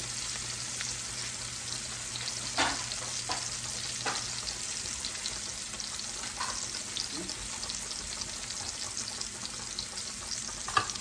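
Steak for smothered steak fries in a greasy pan, giving a constant soft sizzling hiss with scattered pops and a few light clicks, fairly quiet and without voices.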